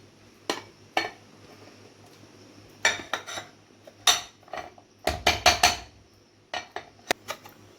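A plate clatters and clinks while mango ice cream is turned out onto it in a home kitchen: a dozen or so sharp ceramic and metal knocks in irregular clusters, close and fairly quiet, with no talking.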